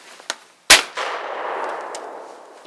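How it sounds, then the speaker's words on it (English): A Cooey Model 84 12 gauge shotgun fires a one-ounce target shell outdoors: one sharp, loud bang after a small click, followed by a long fading rumble of echo. "let's see if this old Cooey will fire"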